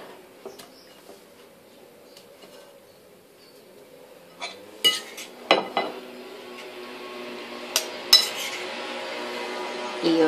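Cheese croquettes being dipped in beaten egg, with soft scattered clinks and taps of a utensil against a dish, growing busier and a bit louder toward the end, with no talk.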